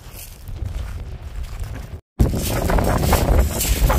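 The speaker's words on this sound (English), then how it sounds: "It's got really windy now." Strong wind by the sea at Dungeness, a constant buffeting roar across the microphone that cuts out for a moment and returns louder.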